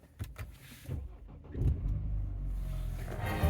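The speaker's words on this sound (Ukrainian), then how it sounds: "Для початку заводимо автомобіль" A 2.0-litre petrol BMW 3 Series F30 328i starts up after some preceding knocks and shuffles, then settles into a steady, close low idle rumble that continues to the end.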